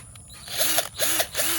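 Three short whirring bursts from a cordless drill, close by, each spinning up briefly before stopping.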